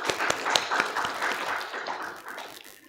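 Seminar audience applauding in a hall, a dense patter of many hands with a few sharper claps up front, steady for a few seconds before fading toward the end.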